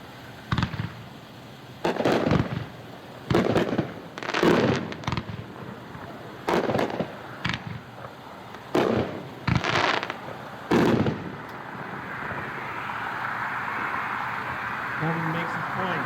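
An 18-shot USA consumer firework cake fires its shots in a rapid series of loud bursts at a dealer demo show, each boom separated by short gaps, then fades into crowd noise and crackle near the end.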